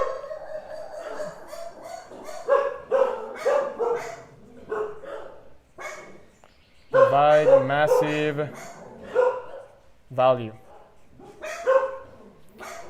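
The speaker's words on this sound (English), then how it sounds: "my dogs are here. We have dogs there. We have dogs everywhere." Several household dogs bark in the background, in bursts that come and go under steady talk in a room.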